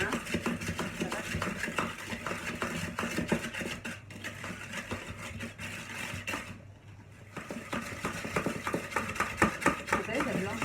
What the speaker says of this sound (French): Maintenant il faut que tu touilles, que tu mélanges bien